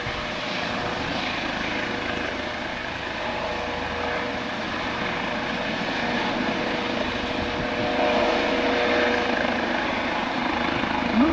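Trainee pilot's light aircraft flying overhead in gusty weather: a steady droning engine hum, fairly loud and constant, rising slightly toward the end.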